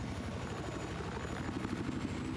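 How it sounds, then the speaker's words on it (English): Helicopters flying in a competitive multiplayer video game match, a continuous close rotor thump with a droning engine that stays loud and steady throughout. "we do see the helicopters now starting to clash here into the middle of the map"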